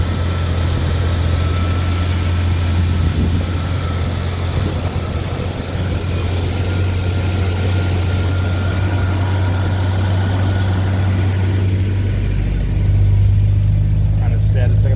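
A 1986 Jaguar XJS-C 5.3 V12 H.E. automatic holds a steady, slightly high idle outdoors, a loud continuous low rumble that rises briefly near the end, with no talk over it.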